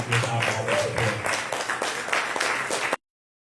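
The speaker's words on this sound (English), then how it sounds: "So round of applause for all these people" An audience at a game jam claps in a dense burst of applause with some voices mixed in, then stops abruptly into silence.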